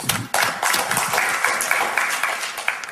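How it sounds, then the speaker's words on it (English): Applause from a seminar audience, a dense steady patter of many hands clapping at close range that runs through the whole stretch with no talk over it. "Give me a round of applause."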